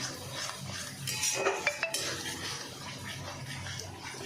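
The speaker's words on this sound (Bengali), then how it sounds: "খুব ভালো করে কষিয়ে দিচ্ছি মশলাটা।" Masala being stirred and fried in a pan for a chital fish muitha, with a spoon scraping and clinking against the metal pan under a soft steady sizzle and a few sharp clanks in the middle.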